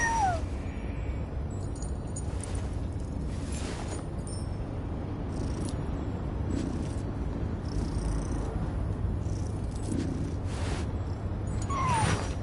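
Ashru, a cat in Genshin Impact, purrs steadily and close up through the whole stretch, with a few faint meow-like tones over the low, even rumble.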